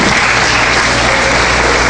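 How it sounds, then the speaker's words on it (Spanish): Church congregation giving loud, dense applause for a sister during a service, a close, continuous wash of clapping throughout. "Aplauso fuerte para mi hermana."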